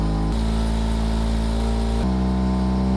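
A rotary engine fitted in a Corvette revs hard and loud, its tone stepping up and then back down twice over a dense, steady droning roar, close by.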